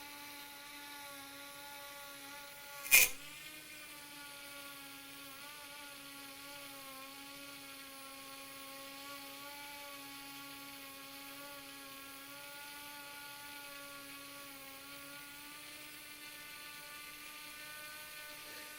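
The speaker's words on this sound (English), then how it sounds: "We have a DC motor and now I want to see the RPMs" A small DC motor spinning steadily, giving a thin, constant electric whine with a faint harmonic hum throughout, heard close and alone after a single sharp click near the start.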